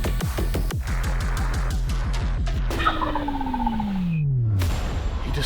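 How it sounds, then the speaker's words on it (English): A wild turkey gobbler in north Georgia woods gobbles loudly amid rapid rhythmic clucking, followed by a long descending call; nearby, no talking. "Gobbler."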